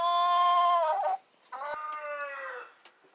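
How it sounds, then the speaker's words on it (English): A rooster on a farm crows in the morning, two loud, close, drawn-out harmonic calls separated by a brief pause. "But he's still crowing."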